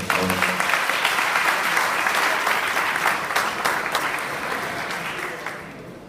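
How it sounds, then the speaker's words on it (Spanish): Audience applause at a sports statistics talk in Latin America, a dense burst of clapping from a crowd that starts strong and slowly fades over about six seconds, with no voices over it. "Un aplauso para él, por favor."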